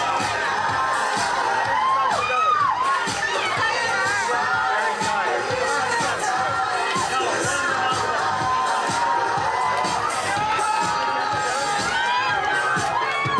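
A crowd at the 2001 Ontario Oyster Festival oyster shucking competition cheers, whoops and shouts continuously, a dense wall of excited voices with chatter and talking mixed throughout.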